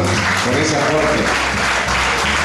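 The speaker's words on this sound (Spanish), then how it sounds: "Y creo que más fuerte el aplauso, por favor," Loud sustained applause from a crowd fills the room at a poetry festival ceremony in Escuintla, Guatemala, while someone speaks in Spanish over it through amplification.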